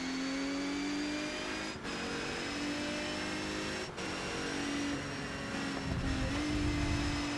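Palmer Jaguar JP1 race car in ToCA Race Driver 3, its engine droning loud and steady as pitch drops at a few quick gear changes, with brief cut-outs between gears.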